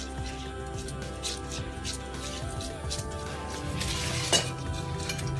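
Mushroom biryani being gently mixed with salt in a pot, with soft stirring and faint clinks of a utensil against the pot over a low background hum, close by.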